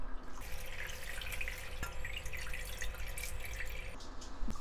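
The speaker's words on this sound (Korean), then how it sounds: "물을 부어. 육수만으로 모자르니까 물을." Water trickles and drips steadily into a pot of shrimp-head and shell stock for a perilla and taro-stem soup, a faint continuous splashing with no talk.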